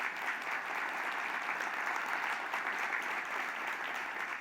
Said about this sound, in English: Let's give them a huge round of applause